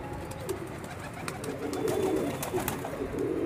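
Low, soft pigeon coos repeat several times against a steady outdoor background, with light clicks and rustles scattered throughout.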